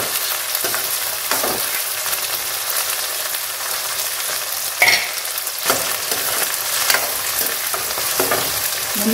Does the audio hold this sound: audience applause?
no